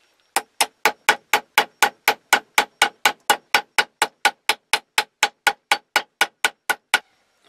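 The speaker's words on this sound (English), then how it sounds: "I'm going to get my hammer and just hammer on there to give it just a little bit of a different look" A hammer peens the metal guard of a stick tang knife in about twenty-five steady, evenly spaced strikes, sharp and close, with no talking.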